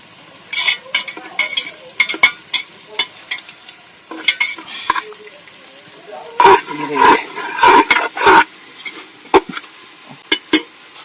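Onions sauté in a pan for chicken biryani, with close, loud bursts of spatula scraping and stirring in uneven clusters over a soft sizzle and short quiet gaps between.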